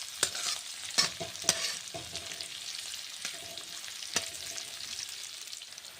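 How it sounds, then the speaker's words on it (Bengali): Sliced onions fry in hot oil with black cumin seeds, giving a steady soft sizzle broken by sharp clacks of a spatula stirring against the pan, with no talking. "পেঁয়াজগুলোকে ভেজে নিচ্ছি।"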